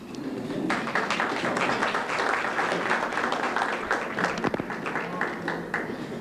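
Guests at a luncheon applaud the city's mayor as he is introduced, a sustained crowd of hands clapping steadily for several seconds, with a few sharper claps near the end.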